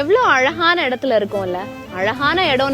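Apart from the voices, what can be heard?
No distinct noise like a dog, phone or traffic.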